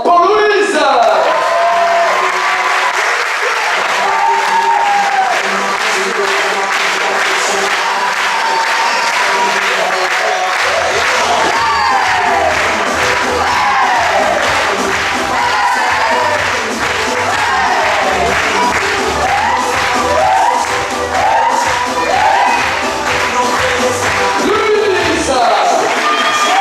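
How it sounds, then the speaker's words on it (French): Loud applause and cheering from a crowd at a resort team show in Menorca, with whoops and shouts mixed in, while amplified speech and music run over the clapping throughout. "Applaudissements pour Louise."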